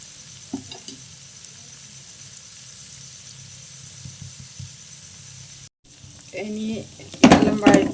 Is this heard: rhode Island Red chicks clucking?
no